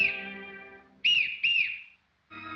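Shrill whistle-like hiccups from a character who has swallowed a whistle in a Charlie Chaplin film, a sustained tone followed by two sharp bursts and a brief return of the pitch.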